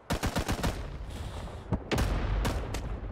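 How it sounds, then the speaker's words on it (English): Gunfire in the Vietnam War video game Rising Storm 2: Vietnam: a rapid burst of rifle shots, then scattered single cracks and heavier reports rolling on, moderately distant with a rumbling battlefield background. "They heard those shots."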